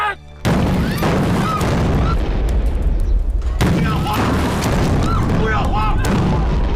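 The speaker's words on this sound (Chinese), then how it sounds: "听着炮声，这是鬼子的9·2步兵炮。" Japanese Type 92 infantry gun fire booms loudly several times in succession, deep blasts rolling over one another, with voices faintly mixed into the din.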